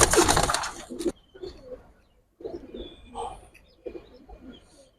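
Giribaz pigeons, hens and cocks in a loft of about seventy birds, coo in soft, repeated low phrases close by, following a sharp, noisy burst of handling at the start.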